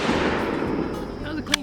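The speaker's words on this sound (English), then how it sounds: "That was a clean shot." A loud, close report from a 6.5 Creedmoor M40-style clone rifle, its booming tail fading over a second or so before a brief sharp click near the end.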